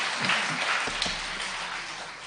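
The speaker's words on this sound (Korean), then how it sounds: "하나님께 감사와 영광의 박수를 올려드리겠습니다." Church congregation applause during a bilingual Korean and Chinese sermon, a dense sustained wash of clapping that fills the space evenly and tapers slightly toward the end.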